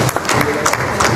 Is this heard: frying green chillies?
no